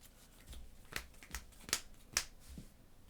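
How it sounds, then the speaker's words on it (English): A deck of game cards shuffled close by, a handful of short papery riffles and snaps spaced across a few seconds in a quiet room. "We're gonna shuffle these up, of course."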